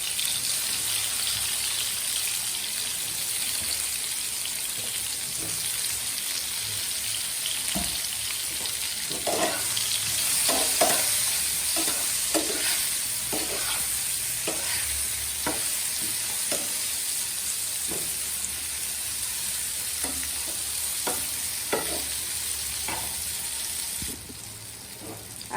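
Thick rounds of round eggplant fry to golden in hot oil, giving a continuous close sizzle broken by repeated sharp clicks and scrapes of a utensil turning the slices.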